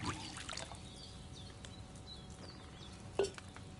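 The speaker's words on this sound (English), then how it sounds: "Pour wine. Some more wine." Wine pours into a cauldron in a video game potion-brewing scene, a faint soft trickle under quiet ambience, with a brief louder splash near the end.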